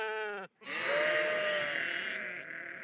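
Two sheep bleats close by: a short wavering one, a brief gap, then a longer, loud, drawn-out bleat that fades slightly at the end.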